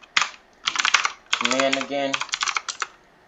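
Fingers type on a computer keyboard in quick bursts of clacking keystrokes with brief pauses between, while a person speaks briefly over part of it.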